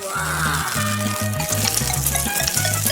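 A tray of milk and crumbled Oreo cookies is stirred, making a steady wet scraping, swishing sound that runs continuously over a background of steady tones.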